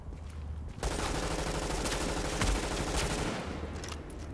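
Rapid bursts of automatic gunfire from a weapon in the video game Tom Clancy's The Division, a dense continuous volley lasting several seconds with sharper cracks near the middle, fairly quiet overall with no talking.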